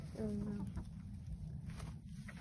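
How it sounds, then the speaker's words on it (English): A rooster with blue-tinged feathers, boss of the flock in a farm grove, gives a short run of soft clucks up close, then quiet barnyard background with a steady hiss. "But he's such a beautiful chicken."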